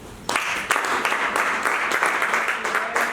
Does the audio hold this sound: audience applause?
yes